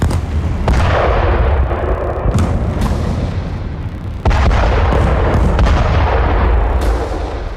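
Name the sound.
artillery shelling and air strikes in Khan Younis, Gaza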